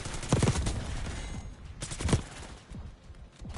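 Sniper and automatic gunfire in a first-person shooter video game, two loud bursts of shots early and midway with scattered smaller pops between, no speech.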